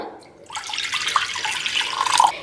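Lukewarm milk pours steadily into a bowl while making donut dough, a continuous close liquid stream lasting about two seconds after a short quiet start, with no talk.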